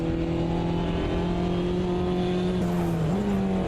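Race car engine in a Studio 397 sim racing game, a steady sustained drone with a small pitch dip and shift near the end, loud and continuous with no one talking.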